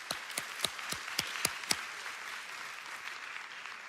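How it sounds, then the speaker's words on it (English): Audience applause for sponsors at an evening school athletic event, a few loud, spaced individual claps near the start over a continuous wash of crowd clapping that carries on evenly. "let's give all of our sponsors a big round of applause"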